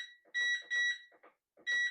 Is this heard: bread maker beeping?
yes